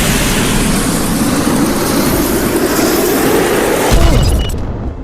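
Helicopter in the Worms WMD video game, a loud, dense whirring engine roar that holds steady for several seconds, then drops off abruptly near the end.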